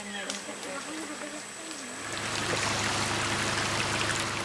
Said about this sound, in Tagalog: Isama pa ang ilog na kailangan nilang tawirin